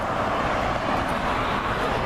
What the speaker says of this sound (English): And I am sorry for the noise of traffic.